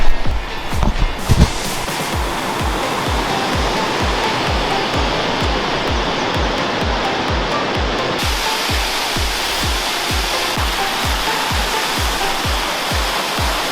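Rushing water from a brown river flows beneath a bridge in Scotland, heard from a metal viewing platform above as a loud, continuous roar with a rhythmic pulsing texture and a brief thump near the start.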